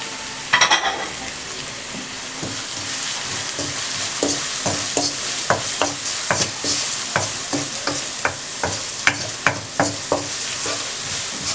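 Ingredients for a spinach and egg curry fry in a pan with a constant loud sizzle, while a spoon scrapes and knocks against the pan in a regular series of sharp taps.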